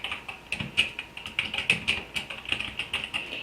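Keys clatter steadily on a computer keyboard as search words are typed, quick light taps with small pauses, close and fairly quiet with no voices.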